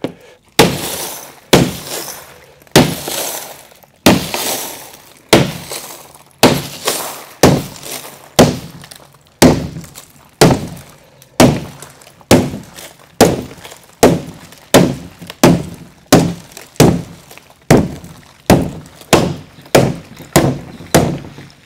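Laminated skylight glass being struck over and over, a long series of loud, sharp impacts with cracking and breaking at a steady rhythm, heard up close with no talk.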